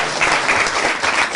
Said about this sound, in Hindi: इन सभी के लिए जोरदार तालियां।